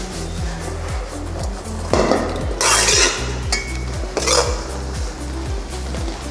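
A spoon stirs Nepali bean curry (simi tarkari) with coriander in a metal pan, giving repeated rhythmic scraping clinks and knocks close by, with louder bursts of sizzling and scraping in between and no talk.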